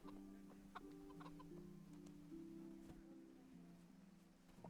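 Several chickens in Kingdom Come: Deliverance cluck and murmur in a steady, overlapping chatter with a few sharper clucks, faint and close-by over a quiet ambient bed.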